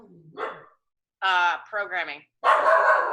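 A pet dog barks indoors in short bursts, a yip followed by a run of sharp, loud barks and a final bark, with a person speaking briefly between them.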